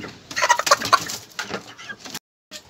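Small backyard flock of chickens clucking and cooing close by, a busy overlapping jumble of soft calls that drops to silence briefly before one more cluck.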